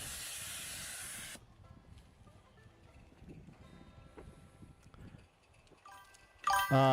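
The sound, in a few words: live steam garden railroad locomotive hissing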